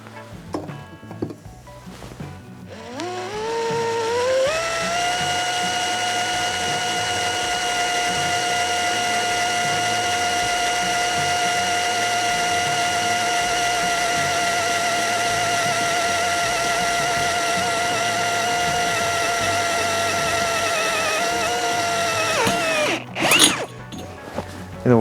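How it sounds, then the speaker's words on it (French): A Metabo BS12BL cordless drill-driver winds up and drills steadily into material with lubricant, a sustained tonal whine holding close and even for about twenty seconds before clattering to a stop. "en position perçage et j'attaque maintenant mon perçage tranquillement"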